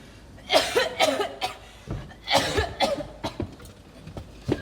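A sick man coughing in a rough, close series of hacking bursts, several clustered fits with short gaps between them, alone without speech.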